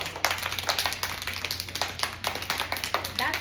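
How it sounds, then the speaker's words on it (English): Children in a classroom lesson clap many times, a dense, ragged patter of claps lasting throughout, with a background hum and some voices mixed in. "Clap twice if everybody matters."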